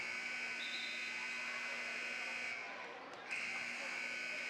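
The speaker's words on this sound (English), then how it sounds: "What an angry noise that buzzer is." A loud gym buzzer sounds at a high school basketball game between Proctor and Notre Dame. The harsh, angry tone holds steady, cuts out briefly, then blares again.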